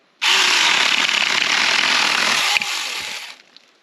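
A small 4-inch chainsaw buzzes steadily at close range for about three seconds while cutting branches, then winds down and stops.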